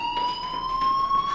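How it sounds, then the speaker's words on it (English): Fire alarm in the video game Life Is Strange sounds as a loud, unbroken electronic tone held steadily throughout, alone without voices. "Hey, do you hear that fire alarm?"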